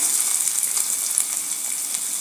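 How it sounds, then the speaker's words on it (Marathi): Onion sizzling in hot oil, a steady, bright crackling hiss that holds evenly throughout with no voices. "आता हा कांदा या तेलावर घालायचा आहे"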